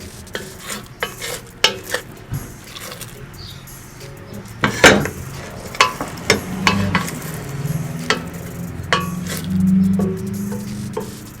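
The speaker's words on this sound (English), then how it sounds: "You're gonna flip your egg a little bit." Scrambled eggs are stirred and flipped in a pan off the stove, with repeated scraping and clinking of the utensil against the pan in an uneven rhythm over a soft fading sizzle.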